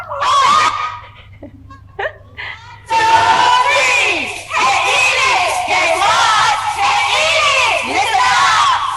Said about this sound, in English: Go ahead with your cheer